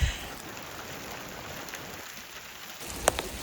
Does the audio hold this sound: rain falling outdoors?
yes